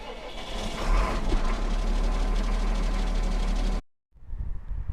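A Massey Ferguson 7720 tractor, a 200 horsepower machine, runs with a loud, steady engine roar close by that cuts off abruptly near the end, followed by quieter background noise.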